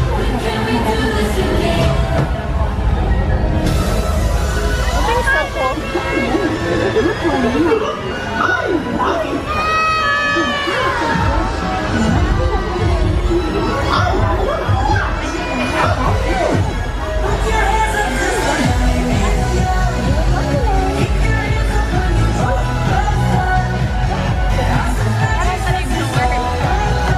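A dense, loud crowd at Disneyland at night during the 60th Anniversary Diamond Celebration fills the scene with constant babble, occasional shouts and children's voices. Nearby people also talk.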